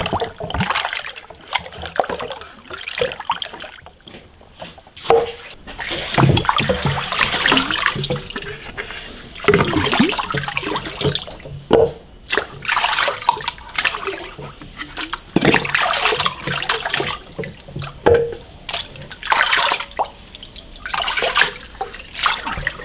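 Soft-shelled turtles are rinsed under running water, with loud, continuous splashing and trickling broken by irregular sloshes and knocks close by.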